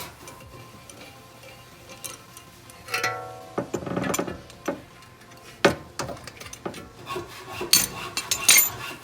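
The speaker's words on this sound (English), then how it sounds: "I'm gonna find a solid spot on the back of the caliper. Place the C-clamp there." A C-clamp is fitted against the back of a brake caliper on a 2009 BMW 328i xDrive during a brake job, giving scattered close metallic clicks, taps and clanks over a quiet workshop background.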